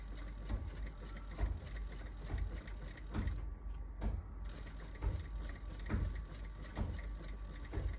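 Sewing machine stitching a sleeve onto a garment, a faint rhythmic mechanical whirring with regular pulsing thumps in short runs, close and alone without talk.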